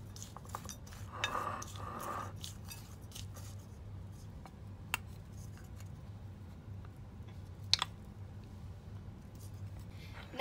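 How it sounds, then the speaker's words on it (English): Small spoon stirring oat flour and nuts in a large mixing bowl for energy balls, soft scraping and occasional light clinks against the bowl over a steady low hum, close up with no talking. "And now we just mix those around with just a small spoon."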